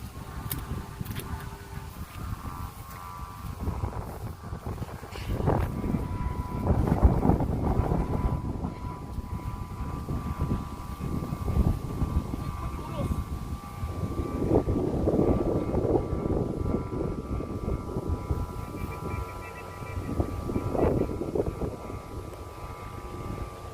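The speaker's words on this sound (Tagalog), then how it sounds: "Grabe ito mga tara, lakas ng hangin." Typhoon Carina's strong wind blows in a steady, moderately loud rushing roar with gusty swells, a low droning hum running underneath throughout.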